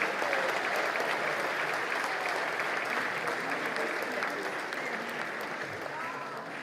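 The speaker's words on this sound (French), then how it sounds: "Bravo, on les applaudit, un grand merci." A festive evening audience at the FEEBF 2022 congress applauding the technical team, sustained clapping from a crowd that fills the room and slowly fades a little.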